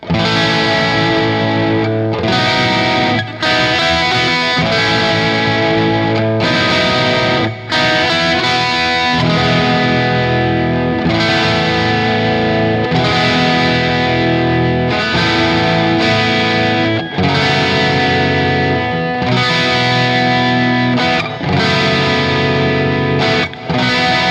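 Electric guitar through a Lekato Cube Baby pedal's Soldano amp model with reverb and delay plays loud, distorted chords and riffs with short pauses between phrases, sustained and washy over about twenty-four seconds.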